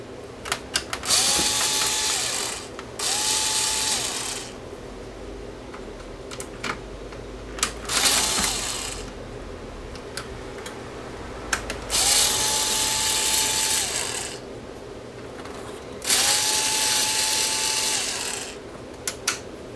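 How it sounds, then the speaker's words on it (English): Screws being backed out of the key switch circuit board inside a Technics SX-K200 MIDI keyboard, heard as repeated bursts of whirring, ratcheting screwdriver turns with short gaps between them, close and fairly loud with no talk. "we're going to remove the screws that hold the key switch circuit board in place"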